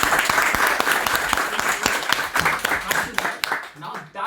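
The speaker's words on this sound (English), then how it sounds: "I guess I deserve a bigger round of applause." A Toastmasters club audience gives a speaker a round of applause after an icebreaker speech: dense, sustained clapping from a roomful of people, a few voices over it, tapering off near the end.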